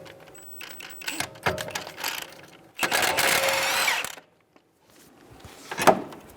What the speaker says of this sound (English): Using an 18mm socket, remove the nut.